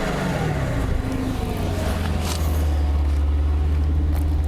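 A GTR or Lexus RCF Track Edition sports car driving in Sport S Plus mode, steady loud engine drone with a low rumble and a slight rise in pitch, heard from inside the cabin with no talking.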